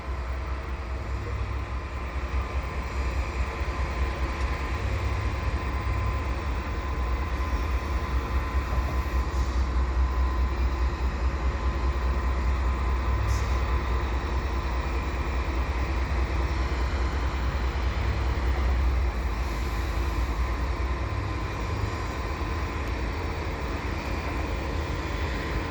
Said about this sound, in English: It looks like all mixed freight there.